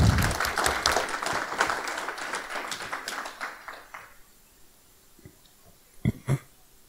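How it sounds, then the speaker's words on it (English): Applause from a convention panel audience bursts out loudly and then thins into scattered claps, fading away, before a few last isolated claps. "Huge round of applause for our AV staff."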